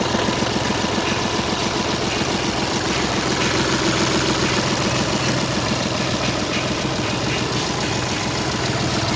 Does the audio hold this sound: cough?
no